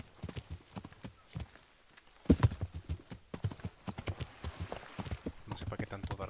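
Horse hooves clip-clop at a steady trotting rhythm in the medieval game Kingdom Come: Deliverance, close and distinct, with a brief snort or whinny midway and someone talking over the hoofbeats.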